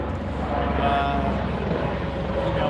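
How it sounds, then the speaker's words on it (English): A helicopter passes low overhead during an outdoor fundraiser livestream in Las Vegas, its steady rotor drone loud and continuous, with a brief bit of talk over it. "This helicopter just turns right overhead."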